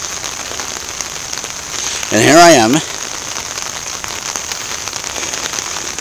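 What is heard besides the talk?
rain falling while walking home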